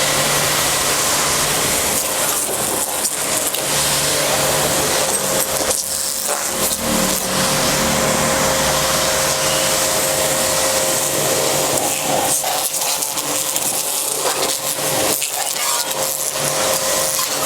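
A loud, steady hiss of a pressure washer spraying water nonstop during a car wash, with a motor droning underneath and brief shifts as the spray hits different surfaces.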